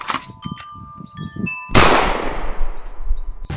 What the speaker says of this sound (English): It's this gun loading.